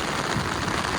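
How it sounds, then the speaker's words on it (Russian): Rain pours on a stormy sea beach at Lazarevskoye, a dense, steady hiss of drops filling the whole second, loud and close with no voices. "Дождь усиливается."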